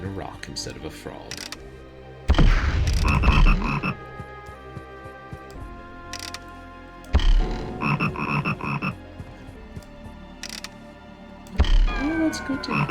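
Repeated croaks from a frog in the Forbidden Forest 3 video game come in strong separated bursts over a droning game background with mechanical clicks.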